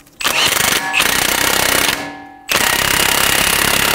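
An impact wrench snugs the front axle nut on a 2007-2011 Toyota Camry, hammering loudly and continuously in two long bursts separated by a brief pause.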